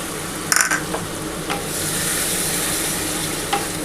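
Masala spice paste for a prawn malai curry is stir-fried in a pan, giving a constant close sizzle with a burst of metallic spatula clatter early on and a couple of later scrapes, no talking.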